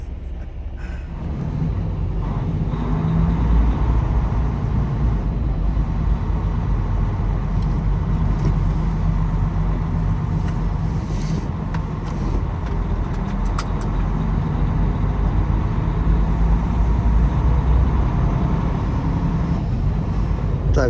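Steady, loud road rumble from inside a vehicle travelling highway 30 in Indiana as snow begins to fall, with a constant low engine and tyre drone that holds evenly for the full stretch and no talking.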